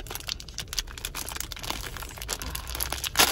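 Plastic packaging crinkles and crackles as hands tear it open, a run of close, sharp rustles and crunches that grows busier and louder toward the end.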